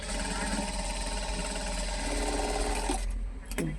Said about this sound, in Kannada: ಒಂದೇ ಮಾರ್ಜಿನಲ್ಲಿ ಸ್ಟಿಚ್ ಮಾಡಿ